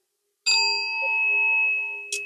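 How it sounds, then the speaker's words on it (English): A small handbell rung once, giving a clear bright ring that sustains and slowly fades, then a second short strike near the end, no talking. "I'm going to just ring my bell."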